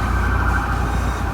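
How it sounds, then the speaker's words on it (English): An ambulance siren passing by on the street outside, a loud sustained wailing tone with a low rumbling vehicle underneath, continuous throughout. "ambulance passing by."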